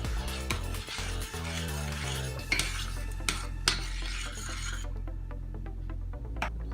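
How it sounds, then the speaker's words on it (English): Rice is stirred in a pot of boiling water, a soft scraping and rubbing of the utensil against the metal pan, close and steady over a low boiling rumble, no voices. "Give that a quick stir."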